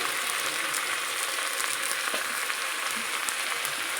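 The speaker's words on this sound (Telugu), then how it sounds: "వీటన్నిటిని ఫ్రై చేసుకోవాలి" Carrot and potato pieces frying in a pan, a steady, close hiss of sizzling oil with scattered small pops and crackles, running alone without talk.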